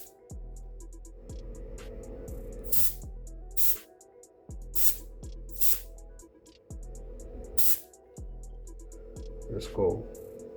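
Short, sharp hisses from a spray can repeat at intervals during a sticky-button restoration, close by, with a low hum and talk between them.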